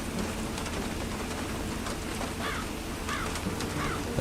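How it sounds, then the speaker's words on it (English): Steady, loud rainfall in the video game Mountain Crime: Requital, a dense continuous hiss of rain on surfaces filling the whole scene, with a few faint bird-like chirps rising above it. "I know the rain's a bit loud."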